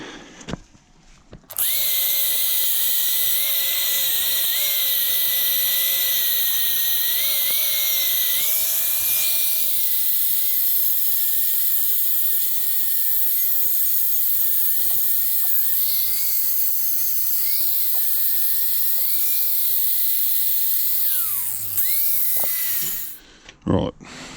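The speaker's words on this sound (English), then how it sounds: "let's just use the flat disc on the grinder for this one" An angle grinder fitted with a flat disc cuts steel during a job fitting a brush attachment to a Kioti tractor. It gives a loud, steady, high-pitched whine for over twenty seconds, shifting pitch slightly as the disc bites, before stopping abruptly.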